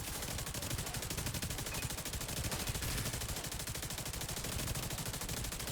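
Rapid, continuous automatic gunfire from weapons in a video game forms a dense, unbroken barrage throughout.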